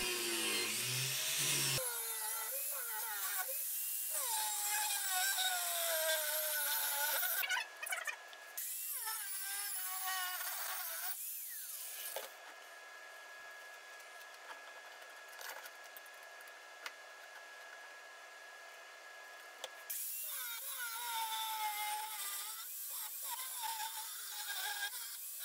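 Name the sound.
cutting steel knife blank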